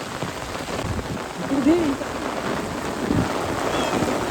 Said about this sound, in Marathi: हा बघा कसला पाऊस चालू झाला